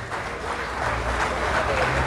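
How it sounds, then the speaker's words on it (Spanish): An audience at a public civic gathering applauds steadily for about two seconds, a dense and even wash of clapping with no clear pauses. "fuerte el aplauso para él"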